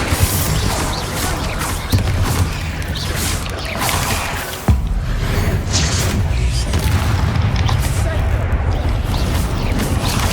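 Spell explosions in Hogwarts Legacy combat: a dense, continuous barrage of loud booms and crashing impacts, with sharper blasts standing out near the start and middle, and a voice faintly underneath.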